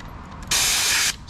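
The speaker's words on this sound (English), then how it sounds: "spraying everywhere you can underneath the bumper guard." A can of compressed air sprays onto the sensors of a robot vacuum under its bumper guard, one loud, close hissing burst lasting about half a second after a quiet lead-in, with a softer puff starting at the end.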